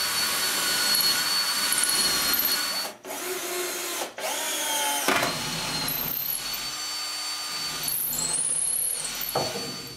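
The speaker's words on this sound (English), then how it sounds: "what I want to do is go ahead and drill the screw holes that I need to attach these pieces" A power drill bores screw holes in wooden furniture pieces for a Celtic cross, running loud and close in long whirring bursts with a few brief stops and revs, no talking.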